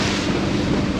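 Choppy, whitecapped lake waves slosh amid a loud rush of wind buffeting the microphone, a dense, continuous roar with no voices.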